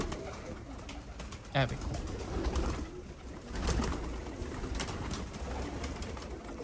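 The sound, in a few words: pigeons cooing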